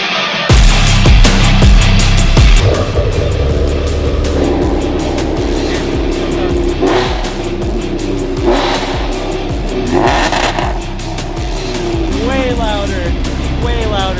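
A Shelby GT350 with Kooks headers, an X-pipe exhaust and a dyno tune, its engine loud and close, starting with a deep blast and then running at a throaty idle with occasional revs while people talk over it.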